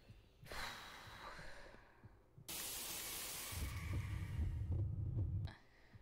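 In the horror video game House of Celestina, a character breathes heavily in close, ragged inhales and exhales, with a low throbbing heartbeat-like pulse underneath, then abruptly cuts to quiet.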